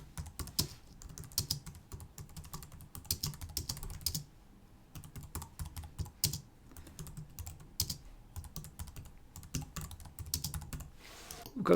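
Typing on a computer keyboard while entering text in InDesign, close and crisp, with irregular flurries of key clicks separated by short pauses and no talking.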